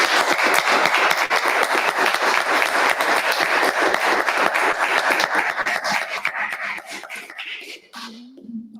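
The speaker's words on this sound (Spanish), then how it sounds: "Un aplauso." A room full of people applauds at the end of a talk, loud, continuous clapping for several seconds that fades out quickly, followed by a brief voice.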